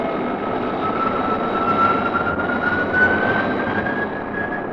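F-92K jet aircraft in flight, a radio-drama effect: a steady, loud engine roar with a rising whine that holds for several seconds, alone with no voices.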